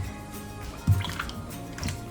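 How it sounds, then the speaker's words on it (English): Felted wool eggs dunked into a weak vinegar and water solution give a soft wet plunge and squish near the middle, followed by faint sloshing and a smaller splash near the end, close and quiet. "So now we're going to just dunk all of these back in here."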